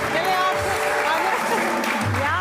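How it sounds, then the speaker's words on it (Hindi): A crowd applauding steadily, clapping dense and sustained throughout, with voices mixed in underneath. "बहुत सारी तालियां"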